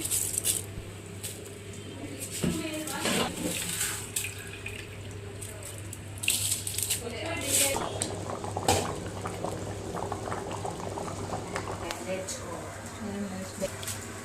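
Water in a pot of chicken biryani boils over in a steady bubbling, frothy churn, close and continuous, with occasional clinks and splashes and voices talking over it.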